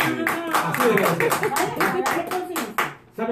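Audience applause at a Spanish-language event honouring an inventor, loud, dense clapping that runs for about three seconds with voices mixed in before it briefly fades.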